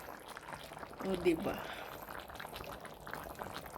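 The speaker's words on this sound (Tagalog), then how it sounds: "Kumukulo siya ngayon." A lamb shank and mango curry boils in a pot, with soft, steady bubbling that swells briefly before settling. A person talks over it throughout.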